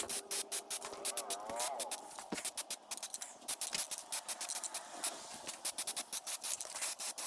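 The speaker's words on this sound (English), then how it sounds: "just hit them with a quick coat of matte black spray paint" Repeated short bursts of aerosol spray hiss from a can of matte black spray paint, rapid on-off pulses with brief gaps, close by, with a few faint clicks and scrapes in between.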